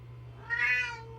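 A male cat gives a single loud, drawn-out meow over a steady low hum in an indoor room.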